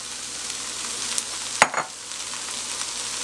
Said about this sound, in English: we're going to mix this up and continue sauteing this for an extra couple minutes